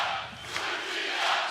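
A crowd cheering and chanting at the FIBA 3x3 World Cup 2023 final, a steady, dense roar of many voices filling the arena with a slight swell toward the end.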